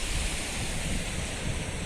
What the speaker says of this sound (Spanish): Llegamos a la playa de La Ratonera